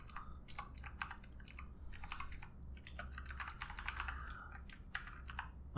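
Quick, continuous typing on a computer keyboard while entering code, crisp close key clicks in fast irregular bursts with no pauses longer than a moment.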